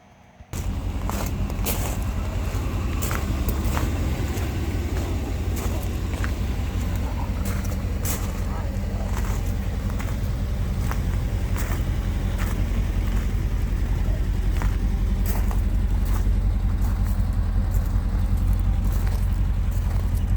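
A Chevrolet C10 pickup truck's engine runs steadily and loud, close by, with a constant low rumble throughout and no speech.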